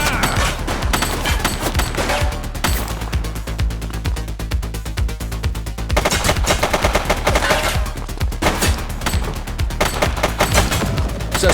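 Rapid bursts of automatic gunfire rattle loudly through a police shootout in the video game The Precinct, with dense volleys that keep going nearly without a break and a brief lull in the middle.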